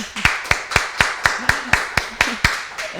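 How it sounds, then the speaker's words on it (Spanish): A few hands clap in a slow, steady rhythm of about a dozen crisp, evenly spaced claps, close and fairly loud, welcoming a guest onto a local television program. "Para ella la vamos a recibir con un fuerte aplauso."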